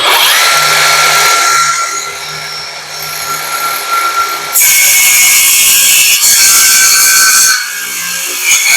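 A Tankmor TMR 802 cordless 5-inch mini circular saw, set to a 4 cm depth, cuts through hard meranti wood with a loud, close, continuous high whine whose pitch and strain shift abruptly partway through.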